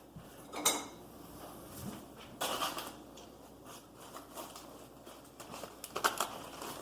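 Metal tongs clink and scrape while handling baby back pork ribs on a Traeger grill, a few sharp metallic clatters spaced irregularly over a quiet background.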